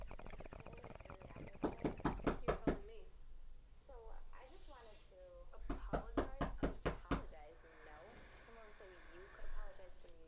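Knocking on a front door, two bursts of quick raps, one early and one midway, with a voice talking softly between them.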